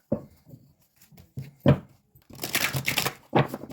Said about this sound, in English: I already shuffled these cards